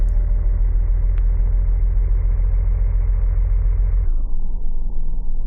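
A car engine drives in a video game, a steady loud mid-range rumble that holds for about four seconds before dropping to a lower, duller drone.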